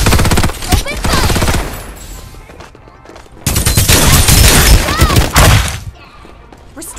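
Heavy automatic gunfire in a shooter video game, loud sustained bursts of rapid shots in two long volleys separated by a brief lull, with game sounds mixed in.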